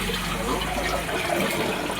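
Dirty water drains out during an air conditioner service, a constant rushing, splashing gush of water pouring into a bucket, loud and unbroken throughout.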